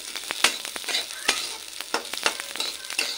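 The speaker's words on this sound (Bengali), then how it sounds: "লাল করে একটু ভেজে নেব।" Moong dal is stirred and fried in a pan, crackling with a sizzle broken by sharp scraping strokes of a spoon at an irregular rhythm, close up with no talk.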